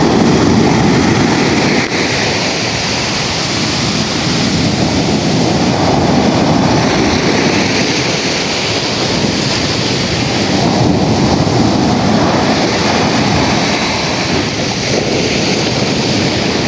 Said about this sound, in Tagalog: Grabe kalalakas po ng alon.